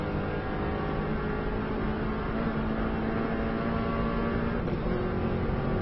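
Subaru car driven at speed in fifth gear on an Isle of Man road lap, a steady loud engine drone with rushing wind and road roar, continuous and close from inside the car, no talking.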